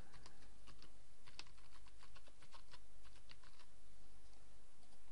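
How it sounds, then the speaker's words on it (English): Rapid, continuous clicking of keys on a computer keyboard, close and steady with irregular taps over faint room hum, no talking. "so I just type that in now"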